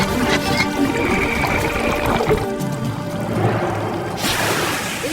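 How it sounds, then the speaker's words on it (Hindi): Animated water being pumped into a container, a steady pouring and splashing stream running continuously and fairly loud, with a brief brighter hiss near the end. "अब हमें सिर्फ पानी पंप से भरना है।"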